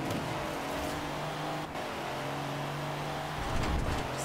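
A car accelerating in the racing game Forza Horizon 4, with a steady, loud engine drone and a brief dip partway through before the engine pulls on.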